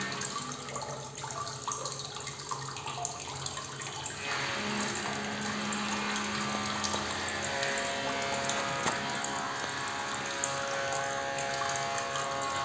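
Water runs steadily out of a plant pot set up for a water lily and guppy pond, draining through stones at the bottom in a continuous close trickle and gush with no talk.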